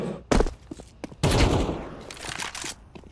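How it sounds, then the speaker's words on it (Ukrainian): Burst of gunfire from a Ukrainian school esports match in a team shooter game, with sharp shots and a dense volley of rapid fire, loud and close, followed by scattered further shots. "Пино десь почув Місісіпі, що по нього стріляють"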